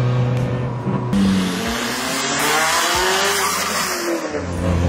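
A tuned 350 BHP Abarth 595 with an Alfa 4C engine and 4WD revs and accelerates hard, its pitch climbing through gear changes, loud and close with a raspy, tuned exhaust tone.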